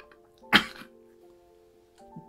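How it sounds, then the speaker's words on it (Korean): A young child coughs once, sharply and close by, followed by quiet and a faint throat sound near the end. "기침이 갈수록 심해지네."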